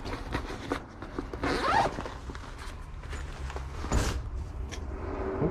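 A zipper on a luggage case is pulled open in a few quick rasping strokes, close by, with light handling noise between pulls.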